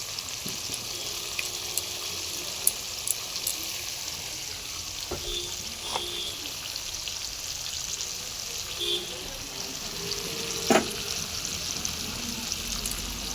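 Chili powder and turmeric being stirred in a frying pan, a steady low sizzle with occasional scrape and clink of the spoon against the pan, close and moderately quiet throughout.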